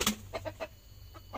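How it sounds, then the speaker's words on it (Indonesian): Free-range village chickens in a coop cluck noisily. Several short, close squawking bursts come in an uneven rhythm over a low background hum. "Kok sedikit ribut nih ayam"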